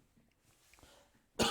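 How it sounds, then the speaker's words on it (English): A single loud, sharp man's cough bursts out at the end after near-silence, close to the microphone. "Sorry about the cough."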